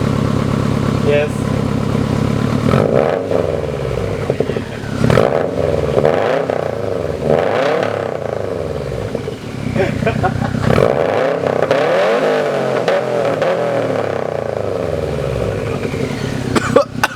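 A 2011 Subaru WRX STI fitted with a Tomei Expreme Ti titanium exhaust revs repeatedly, rising and falling in loud bursts close by, with people talking over the engine.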